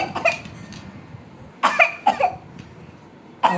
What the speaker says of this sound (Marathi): आजीला लय खोकला लागलाय हो.